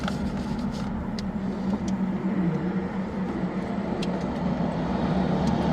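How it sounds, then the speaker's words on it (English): A car drives through the streets of Bellaire, heard from inside as a steady, close engine and road rumble with tire noise that holds even throughout, and a few faint ticks above it. "Here we are driving through the streets of Bellaire"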